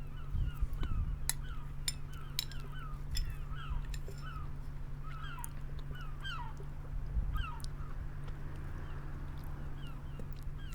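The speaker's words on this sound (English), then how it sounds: "as you can hear the seagulls in the background" Seagulls cry repeatedly at a seafront in the bus simulator OMSI 2, with scattered squawks over a constant low engine hum and ticks from the bus cabin.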